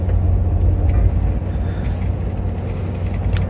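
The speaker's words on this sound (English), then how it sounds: "I'm driving the 80 series back to the house" A 1997 Toyota Land Cruiser 80 series heard from inside while driving: a loud, steady low engine and road rumble with no talking, and a few faint rattles on top.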